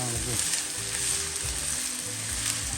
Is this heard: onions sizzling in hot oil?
yes